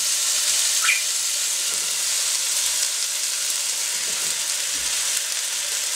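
Garlic and kale saute in olive oil in a pan, giving a steady, soft, close sizzle that stays even throughout with no voices.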